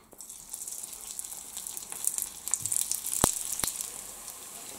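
Mini veggie burgers frying in a pan, a steady close hiss and sizzle with a few sharp pops and crackles, moderately quiet with no talking.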